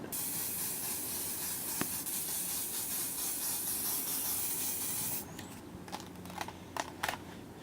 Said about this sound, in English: For this orange, what I'd like to do is mist a red on it.